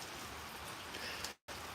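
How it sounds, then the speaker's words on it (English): Steady rain falls outdoors as a dense, even hiss with no pauses, close and fairly soft, and it cuts out only for a brief moment near the end. "it started to rain on the way out here"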